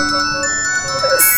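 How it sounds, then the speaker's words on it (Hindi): An electronic ringtone melody plays in short repeating tones, moderately loud and fairly close, with no talking. "फोन की आवाज आ रही है"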